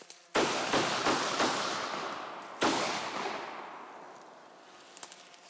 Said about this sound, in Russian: пять выстрелов дробью